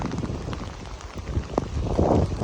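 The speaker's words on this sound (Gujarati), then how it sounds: "વરસાદ તો હજી ચાલુ જ છે" Steady rain patters and hisses continuously, with some wind rumble and a few louder knocks; no talking.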